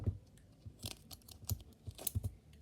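Duct tape being cut and handled up close: a quick series of soft crinkling snips and crunches, quiet and irregular, with no talking.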